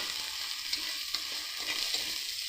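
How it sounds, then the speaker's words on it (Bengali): Spice paste fried in oil and stirred in a pan for a meatless mock-fish curry, with a steady close sizzle broken by a few sharper scraping strokes of the spatula. "এবার ভালো করে আমরা নেড়ে নেব মশলাটা।"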